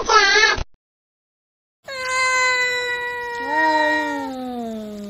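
A cat lets out one long, drawn-out meow that bends into a wavering caterwaul and slowly drops in pitch. Just before it, after a brief gap, comes a short bright vocal sound.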